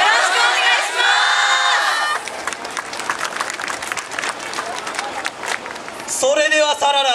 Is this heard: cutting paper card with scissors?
no